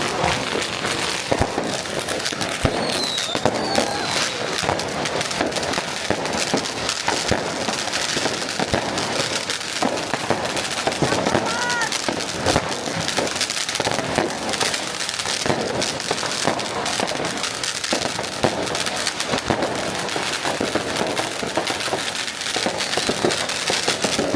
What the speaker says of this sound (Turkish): Şu an meydanda bin tane hava fişek